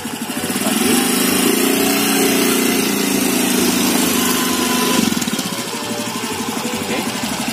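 Scooter engine running steadily at low throttle close by, a continuous buzzing drone that rises slightly and then eases off toward the end.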